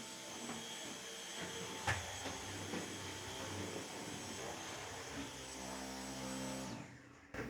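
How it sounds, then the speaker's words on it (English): A vacuum cleaner runs steadily as it sucks along a wall indoors, a continuous close whine and roar that holds for several seconds before cutting off abruptly near the end. "Vacuumed the wall."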